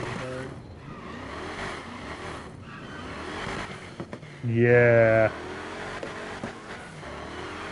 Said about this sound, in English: Listen to that engine.